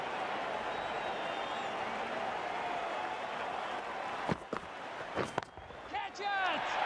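A stadium crowd roars steadily in a cricket video game during a Pakistan vs New Zealand T20 match, a dense, constant wash of cheering; toward the end a few sharp thuds cut through and a commentator talks.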